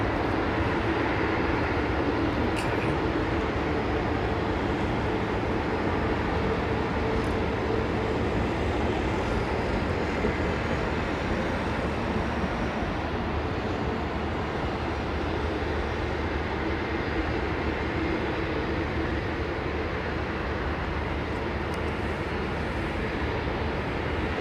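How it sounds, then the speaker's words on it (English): Jet airliners with high-bypass turbofan engines on their takeoff roll at London Heathrow, a steady, loud broadband roar that holds for the whole stretch with no talking. "Some of the high bypass turbofan engine screaming on the takeoff rolls turns me on."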